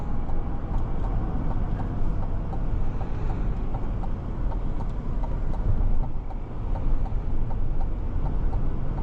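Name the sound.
Cadillac Escalade engine running during test drive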